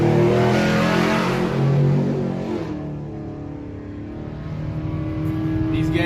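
An Ultra4 off-road race car launches at the start of the Pro/Ultra4 race at the 2022 TDK Big Sky event in Broadview, Montana. Its loud, revving engine roar rises, then fades as it pulls away, and commentators talk over it.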